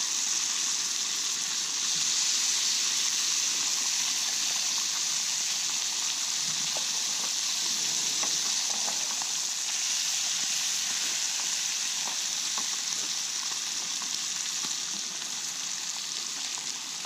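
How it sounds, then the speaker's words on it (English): Bacon frying in a pan on a hot camp stove outdoors, a continuous even sizzle and hiss holding steady at close range with faint crackles scattered through. "it cooks up bacon just nicely"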